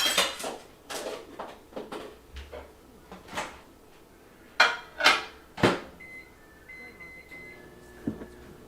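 A hot pocket going into a microwave: a string of close, sharp clunks and clatters of a door and dish being handled, followed by the steady hum and faint beeps of the oven starting, no talk.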